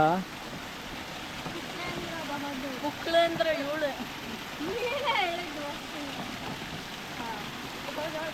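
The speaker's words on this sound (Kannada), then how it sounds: "ಎಷ್ಟು ನ್ಯಾಚುರಲ್ ಸ್ಟ್ರೀಮ್ ಇದೆ, ನೀರು ಎಷ್ಟು ಚೆನ್ನಾಗಿ ಬರ್ತಾಯಿದೆ" A natural stream flows on a monsoon roadside near Kabbinale, a steady rushing wash of water running throughout while people talk over it.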